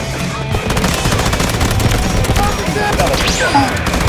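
Sustained automatic fire from an M249 machine gun in the Delta Force video game, a dense rapid rattle of shots running loud and continuous throughout, with a voice speaking over it.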